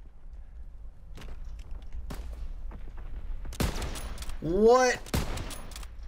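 Gunfire crackles in a WW2 first-person shooter match, a few sharp shots and a burst of fire amid game sounds, with a player briefly speaking.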